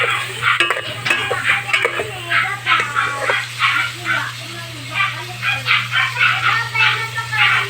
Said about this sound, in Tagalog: Ang ingay po ng mga aso sa kabilang bahay.